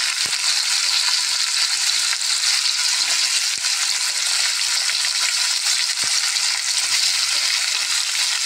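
Potatoes and green chillies frying in hot oil with nigella seeds, giving a loud, continuous close sizzle with a few faint clicks, steady throughout and without talk.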